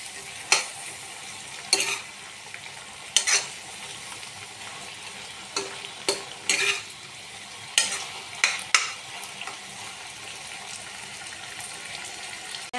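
Chili baby corn is stirred into a simmering gravy in a pan, a low wet bubbling bed punctuated by repeated sharp clinks and scrapes of the spoon at irregular intervals.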